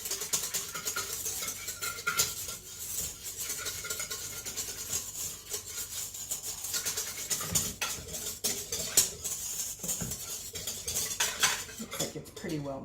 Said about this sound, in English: So now I'm going to whisk it to make sure it's mixed well.